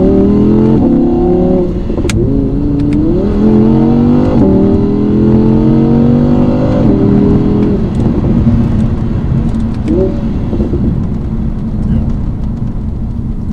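Engine of a 2017 Audi R8 Spyder climbing through a short, loud burst of acceleration after two quick downshifts, the revs rising in stepped surges with brief dips between, heard close and continuous over road noise.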